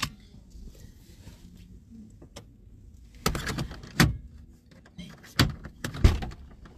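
A car is being opened: quiet shuffling at first, then a cluster of sharp clicks and thuds from latches and a door, with several distinct knocks spaced over the last few seconds.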